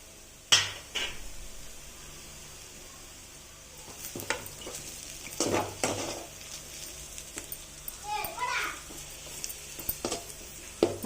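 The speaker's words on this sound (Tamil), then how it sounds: "மசாலா போட்டு நல்லா வதக்கணும் ஃப்ரெண்ட்ஸ்." Pasta with masala being sautéed in a pan gives a soft, low sizzle broken by sharp spatula scrapes and metallic clatters against the pan, coming in irregular bursts without any talking.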